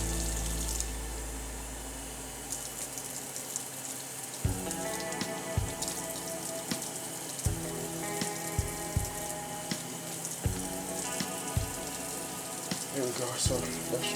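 Water running from a tap into a pot to mix with flour for dumpling dough, a steady hissing stream with irregular knocks and clatters of the pot and utensils, fairly close.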